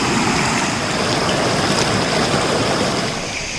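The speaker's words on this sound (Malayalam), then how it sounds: "ഇവിടെ ഉണ്ടൊരു കുഞ്ഞു വെള്ളച്ചാട്ടം ഉണ്ട്" A small waterfall and clear flowing stream at Dhoni waterfalls in Palakkad, Kerala, a loud, steady broadband rush of splashing water heard close by, with no voices.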